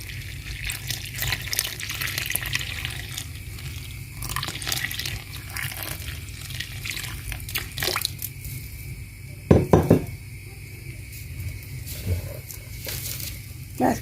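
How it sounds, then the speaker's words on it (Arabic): Water pours into a kunafa batter of flour, baking powder and salt, a steady close splashing and trickling that runs for the whole stretch over a low constant background hum. "نضيف موية"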